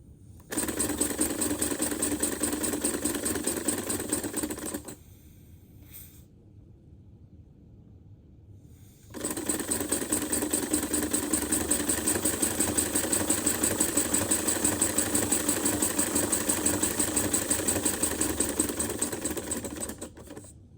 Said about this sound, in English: What I'm going to do is attach this hose to it, and there's an air tank connected to it